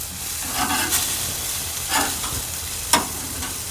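Burger patties sizzling on a Monument gas grill, a steady close hiss with soft scraping and a sharp clink of tongs as the patties are turned.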